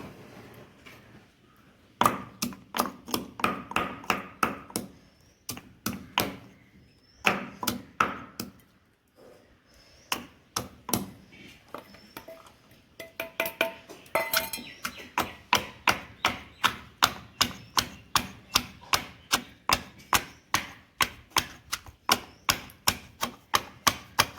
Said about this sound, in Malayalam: ഇതിലേക്ക് ആവശ്യമായ ഉള്ളിയും വെളുത്തുള്ളിയും നമുക്കൊന്ന് ചതച്ചെടുക്കാം